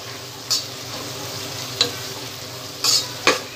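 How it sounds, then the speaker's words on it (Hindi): Onions sizzle steadily in hot oil with green chillies added. A utensil scrapes through the pan in a few short, sharp strokes over the constant frying hiss. "प्याज हमारी फ्राई हो रही है"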